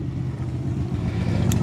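A motorcycle rumbles past outdoors on a battlefield site, a loud, deep, steady engine drone filling the whole moment with no talk over it.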